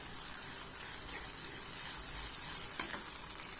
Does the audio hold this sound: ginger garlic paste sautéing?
yes